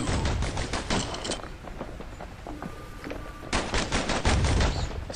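Dual slinger pistols fire in Bastion, loud rapid bursts of shots in two clusters with a quieter gap between, broadband cracks repeating quickly close up.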